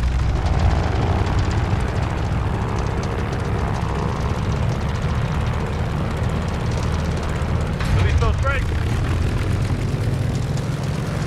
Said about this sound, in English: You're cleared for takeoff.